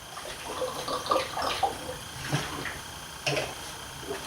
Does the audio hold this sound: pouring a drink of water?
yes